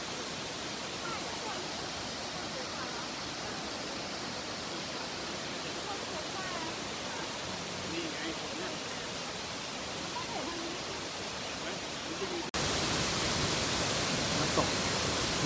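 Thi Lo Su waterfall in Thailand, a dense steady roar of falling water heard throughout, with a sudden jump in loudness near the end; no clear talk.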